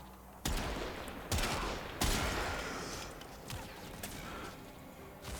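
Rubico Prime sniper rifle firing in the video game Warframe, several loud, sharp single shots spaced about a second apart, each with a booming tail, over faint background ambience.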